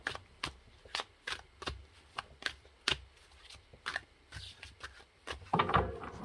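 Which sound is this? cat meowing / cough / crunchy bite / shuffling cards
shuffling cards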